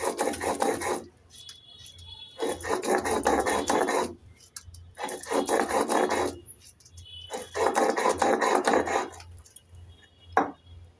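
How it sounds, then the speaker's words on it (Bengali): Soaked poppy seeds, melon seeds and cashews are ground into paste on a grinding stone, four long rhythmic rasping strokes separated by short pauses, close and clear. "এবার আমি এদিকে পোস্ত চারমগজ আর কাজু বাদামটাকে বেটে নেব"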